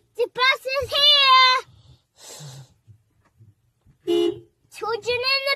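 A voice imitates a bus horn with three honking sounds, tonal and harmonic, between stretches of talk.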